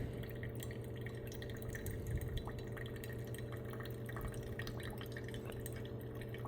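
Water pours steadily over ground light-roast washed Kenyan coffee in a pour-over brewer, a soft continuous trickle with faint drips under a constant low background hum.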